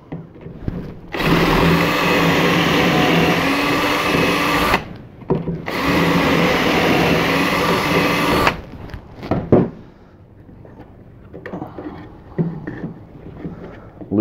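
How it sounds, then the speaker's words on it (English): A power drill driving screws into a wooden side table whirs loudly in two long bursts, pausing briefly between them, then falls quiet to faint clicks and handling noise. "Take our drill."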